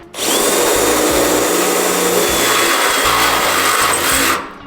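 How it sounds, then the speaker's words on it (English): A power drill whines loudly and steadily as it bores a 3/8-inch hole through a truck wheel tub, close up, starting and stopping cleanly with no talking. "drill out the hole to 3/8 for the rib nut installation"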